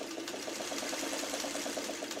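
A sewing machine stitches a quilt block seam, running steadily in a fast, even mechanical whir with a rapid repeating needle rhythm throughout, close and fairly loud, with no talking.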